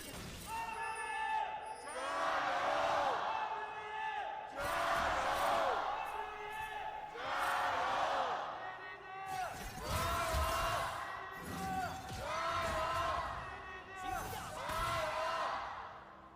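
Fans of Edward Gaming and Team WE cheer at an LPL Summer esports match, the crowd noise swelling in repeated loud waves over about sixteen seconds while a commentator talks over it.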